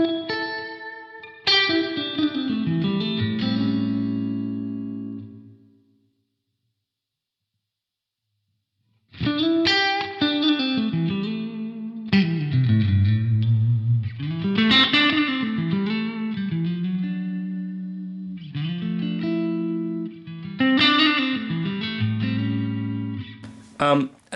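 Electric guitar plays blues phrases through a tone thick with reverb, bright sustained notes and bends washing out behind each line, with a short silent gap partway through and no talking.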